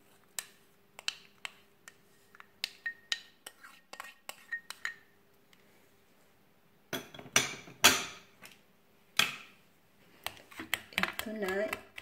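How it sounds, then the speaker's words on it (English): A spoon stirs mashed banana with egg in a bowl, making quiet, irregular clinks and scrapes in scattered bursts, busier toward the end. "Pagkatapos, ihalo natin dun sa egg."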